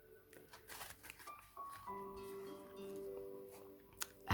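A deck of cards is shuffled for a card reading, giving soft, close riffling and flicking clicks over a faint steady tone in a quiet room.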